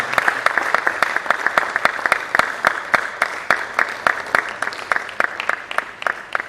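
Sustained applause from an audience at a College of Medicine scientific conference plenary session, with dense, steady clapping throughout and a few sharp louder claps standing out near the microphone.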